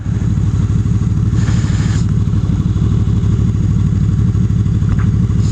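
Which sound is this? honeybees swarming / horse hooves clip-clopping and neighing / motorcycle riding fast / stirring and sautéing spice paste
motorcycle riding fast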